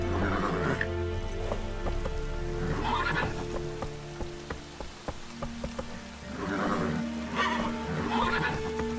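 Roach, Geralt's horse in The Witcher 3: Wild Hunt, whinnies and neighs loudly over steady galloping hoofbeats, with rain and game music filling the background.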